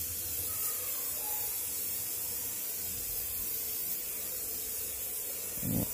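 Varnish sprays from a can onto a finished painting as a continuous soft, airy hiss that stays close and steady throughout, ending with a short rubbing scrape, with no voices.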